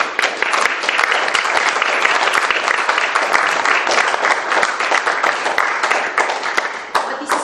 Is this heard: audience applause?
yes